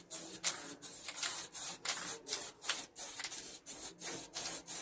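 A cloth rubs across a Renault 9 Broadway bumper part before painting in a series of brisk, rhythmic wiping strokes, close and fairly loud, with no talking.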